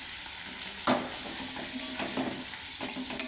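Onion and capsicum fry in hot oil in a kadai, giving a steady close sizzle broken by several scraping stirs and light clinks of a spatula against the pan.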